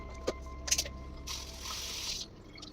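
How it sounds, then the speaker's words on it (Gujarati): Water pours into a plastic bottle poked with small holes for a bit over a second, a hissing, bubbly fill after a few short clicks and knocks. "એના પછી આપણે બોટલમાં ભરીશું પાણી"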